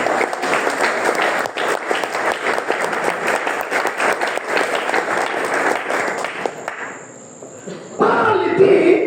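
Church congregation cheering and applauding for the Lord during a French-language sermon in Libreville, dense loud clapping with shouts sustained for several seconds, then fading before a voice begins.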